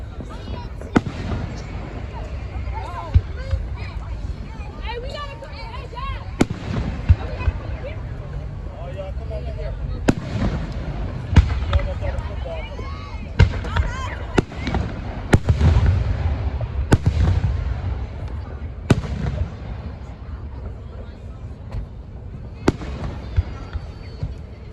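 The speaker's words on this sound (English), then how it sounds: "These nice Juneteenth fireworks" Juneteenth fireworks bursting overhead in a long series of sharp booms and crackling pops at irregular intervals, with a crowd chattering and voices talking throughout.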